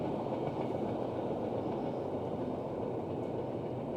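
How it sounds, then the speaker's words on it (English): A train rolls over a bridge while heard from an e-bike riding below, a continuous loud rumble of rail cars with steady low roar and no voices. "Well, we got a train for you there."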